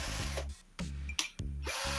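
Kleiten 18V cordless impact drill runs with a loud, steady motor whine that cuts out briefly twice as the gear mode is switched between 1 and 2, then spins back up.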